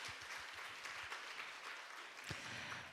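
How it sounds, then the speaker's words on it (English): Faint, distant applause from an audience at an international development conference, honoring a moderator and speakers; a short steady patter of clapping throughout. "Please give another big round of applause to our moderator and speakers"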